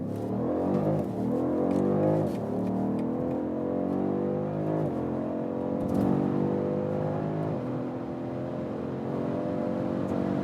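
A BMW M550i with its 8-cylinder engine accelerating hard from 30 km/h: a loud, sustained engine roar climbing in pitch through the gears, with small breaks at the shifts; no one talks.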